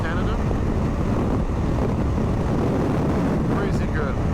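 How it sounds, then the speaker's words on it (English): Steady wind buffets the microphone with a constant low roar throughout, a rushing outdoor gust that never lets up, on a BMW R1250 GS Adventure motorcycle riding the high plains of Canada. "Still windy."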